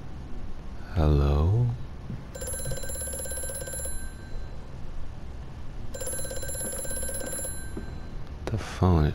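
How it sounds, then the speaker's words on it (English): A telephone rings twice in the horror game Amnesia, bright electronic bursts lasting over a second each, separated by quiet, with a short groaning vocal sound before and another sound near the end. "The phone is ringing."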